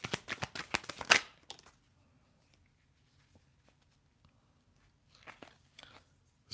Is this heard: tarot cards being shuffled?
yes